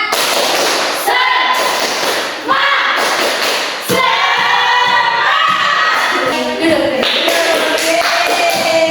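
A classroom group does a rhythmic spirit clap together, loud with sharp thuds and shouting voices, close and energetic, pausing briefly between bursts.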